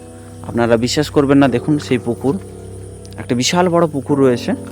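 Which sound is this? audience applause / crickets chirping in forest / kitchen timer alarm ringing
crickets chirping in forest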